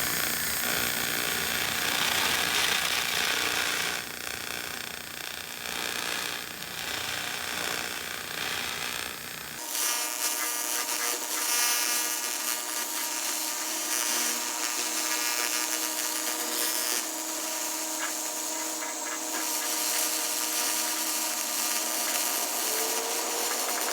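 A 2000 W continuous-wave laser cleans heavy rust off a Toyota frame, a continuous high, crackling hiss that stays steady and close, with no talk.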